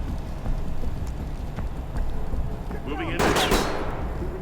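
Gunfire in the tactical shooter Ready Or Not: a dense burst of shots flares up near the end, loud and close, over a steady background of game noise.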